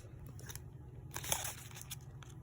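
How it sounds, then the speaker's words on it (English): Scissors cut along the edge of a sheet of material, a burst of crisp snipping through the middle, with fainter clicks before and after, close by over a low background hum. "with the scissors, you're going to cut along the edge"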